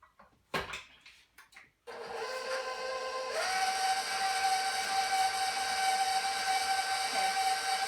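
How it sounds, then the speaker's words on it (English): A stand mixer running on low through pumpkin cookie batter, a steady whirring drone with a high motor whine that starts after a few clatters and carries on evenly. "I'm going to turn my machine on low to incorporate this stuff"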